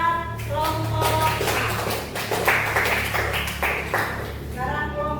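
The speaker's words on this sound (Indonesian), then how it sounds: "yuk tepuk tangan dulu buat kelompok A" A primary-school class claps for a group of classmates, a steady burst of children's hand claps lasting a few seconds, fairly close, with some voices mixed in.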